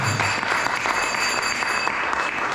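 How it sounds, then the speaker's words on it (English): An audience at a spiritual class on Lord Siva applauds for Sukanya, steady clapping that holds for a couple of seconds at moderate volume. "So we can give her a little round of applause"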